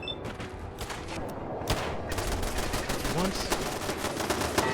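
Rapid bursts of turret gunfire and automatic weapon fire in Fallout 4, a dense continuous fusillade of shots, loud and close, with a brief spoken word over it.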